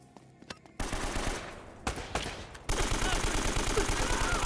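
Bursts of automatic gunfire in Uncharted, a few isolated shots first, then short volleys and a final steady rapid string of evenly spaced rounds, fairly close and loud.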